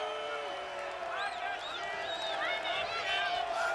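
A capacity arena crowd cheers at the Omni during WCW Monday Nitro, a steady roar with whistles and whoops rising and falling throughout.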